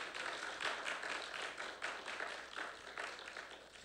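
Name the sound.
audience applause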